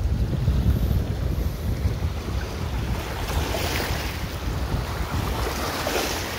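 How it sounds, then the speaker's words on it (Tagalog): Ocean waves churn and wash continuously nearby at Puerto Azul, Philippines, a steady broadband roar mixed with wind buffeting the microphone, no voices. "Lakas kasi ng alon."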